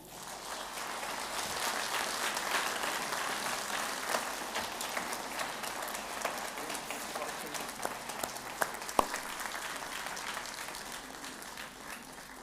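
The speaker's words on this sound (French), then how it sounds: "On peut les applaudir encore." A concert audience applauds the musicians of a wind band at its 125th-anniversary concert. The clapping is sustained and fairly soft, heard from a distance over about twelve seconds, with a few sharper individual claps standing out.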